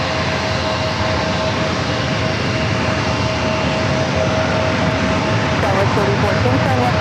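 A JetBlue Airbus A321 airliner approaching runway 27 at San Diego airport gives a steady, broad engine roar that holds at a fairly loud level throughout, with a faint tonal whine running through it.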